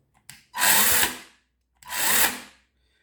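A Parkside PGHSA12B2 cordless mini chainsaw revs in two short, loud bursts of about half a second each, its high, whining motor starting and stopping sharply with near silence between runs.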